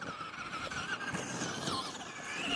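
A small RC car runs at full throttle around a bumpy backyard oval track, its electric motor giving a continuous high whine that rises and falls in pitch with steady rumbling wheel noise underneath.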